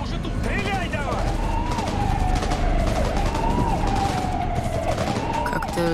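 Video game shootout with rapid bursts of gunfire against a wailing police siren that rises and falls, loud and close, while voices shout over the action.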